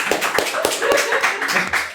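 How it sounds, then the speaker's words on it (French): A person clapping hands slowly and unevenly, several distinct close claps spaced apart, with voices talking over them. "J'applaudis, mais c'est de consternation."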